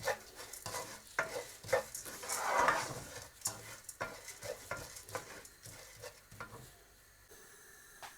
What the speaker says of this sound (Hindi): सनफ्लावर सीड्स को भी हल्का सा ड्राई रोस्ट कर लेंगे।